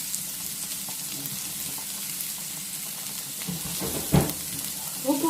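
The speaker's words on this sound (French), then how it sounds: "puis faire rôtir comme ça pour donner une belle couleur" Pieces of butternut squash sizzle steadily in a hot pan, a soft frying hiss with a few louder crackles and a clack of the pan or utensil near the end.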